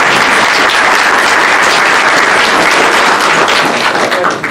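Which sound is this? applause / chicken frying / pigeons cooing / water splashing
applause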